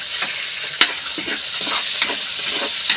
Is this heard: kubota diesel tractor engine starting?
no